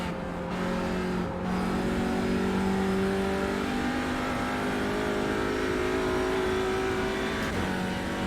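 A race car engine in a racing simulator game holds steady and loud, with a rising whine as it accelerates during a cold-tyre qualifying out-lap at the Nürburgring NLS/VLN, with no talk over it.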